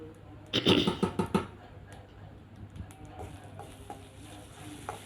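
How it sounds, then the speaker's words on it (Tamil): Cashews frying in oil over a low flame for venpongal, with a burst of stirring and scraping early on, then a soft, steady sizzle with faint clicks. "கொஞ்சம் முந்திரி எல்லாத்தையும் போட்டு நல்லா ஃப்ரை பண்ணிவிட்டு கருக விட்டுறாமல் லோ ஃப்ளேமில் வச்சு கொஞ்சம் நல்லா ஃப்ரை பண்ணிக்கோங்க"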